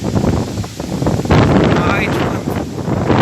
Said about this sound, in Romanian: Auziți cum s-aude vânt.